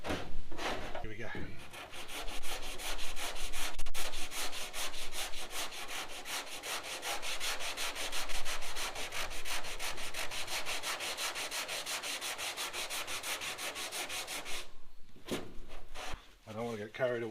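Hand sanding with 80-grit sandpaper on a Ford XY sedan body gives a steady, close rhythmic rasp of quick back-and-forth strokes for about fifteen seconds, ending with a brief pause and a voice.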